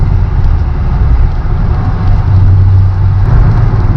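Traffic passing on the road around a Nissan Pulsar NX, a continuous loud rumble of engines and tyres with a brief low drone swelling midway, no talking.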